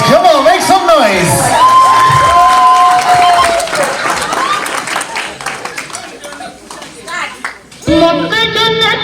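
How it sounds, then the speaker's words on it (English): A crowd at a 50th wedding anniversary party claps, cheers and whoops loudly for a performer, with music and voices mixed in; the noise dies down, then swells again near the end. "Ladies and gentlemen, a nice loud round of applause. Come on, make some noise."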